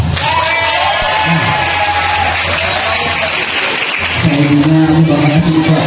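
A crowd at a school Isra Mi'raj commemoration claps and cheers, with whoops and voices mixed into the dense applause and a loud announcer-like voice rising toward the end.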